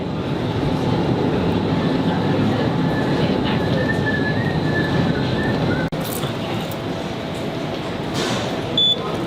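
A Sydney train rumbles steadily throughout, a continuous close rolling roar with a brief squeal partway and a short dip near the end, no talk.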